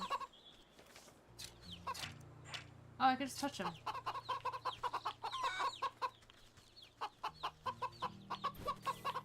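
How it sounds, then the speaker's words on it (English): Chickens cluck in the video game Wytchwood, a run of short choppy clucks over a low droning game soundtrack, with a player talking briefly near the start. "Chicken."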